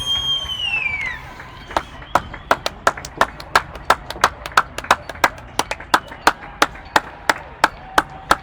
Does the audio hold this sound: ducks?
no